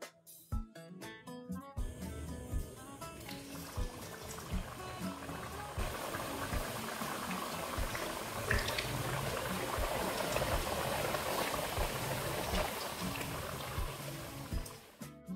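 Samosas sizzle and bubble steadily in medium-hot oil, a dense continuous frying crackle that fills the whole stretch after a few sharper clatters at the start, with no voices.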